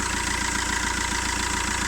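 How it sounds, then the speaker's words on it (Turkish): A 2008 Fiat Linea engine idles steadily after a timing chain replacement, a smooth, even, continuous hum heard close up with no other sounds or talk. "Motor sesi değişti mi? Bir nebze olsun değişti. Daha sessiz çalışıyor."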